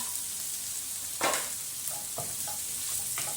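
Onion and ginger frying in a pan, a steady close sizzle with a few spatula stirs and scrapes over it.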